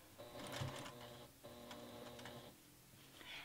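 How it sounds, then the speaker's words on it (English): A home sewing machine stitches a few times in place while a quilt is secured for free-motion quilting, two short bursts of rapid mechanical whirring and ticking with a pause between, quiet and close. "I'm going to stitch a few stitches in the same spot to secure it."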